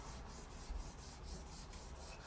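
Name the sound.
hand sanding wood with 240 grit sandpaper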